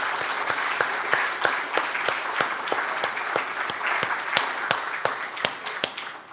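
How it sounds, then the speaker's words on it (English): A church congregation applauds during a Sunday service, with even, steady claps close by and a soft crowd murmur underneath. "let's have a round of applause for our company."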